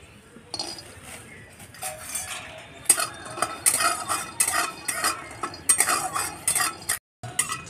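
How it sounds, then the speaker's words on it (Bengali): Peanuts dry-roast in an empty pan and are stirred, making scraping and rattling clinks of nuts and utensil against metal in uneven bursts, close and fairly loud with no voices. "শুকনো খোলায় বাদামটা ভেজে নিচ্ছি।"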